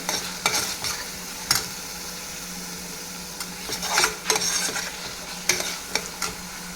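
Onion-tomato masala paste for chole frying in a pan, a low continuous sizzle broken by repeated stirring scrapes and spatula taps at an uneven rhythm, with no talk.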